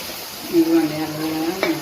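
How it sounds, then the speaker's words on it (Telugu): Spiced masala for Nellore country chicken curry, with garam masala and chicken masala, frying in oil in a pot, a steady sizzle broken by scraping stirs and one sharp clink, with some voice in the background. "మసాలా అంతా బాగా వేగిపోయింది"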